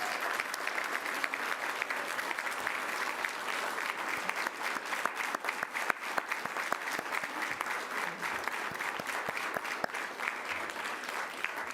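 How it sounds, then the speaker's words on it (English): Steady applause from a big audience, many hands clapping without pause for several seconds. "Let's stand on our feet and give a round of applause to Linda McNeil and all the other homeowners"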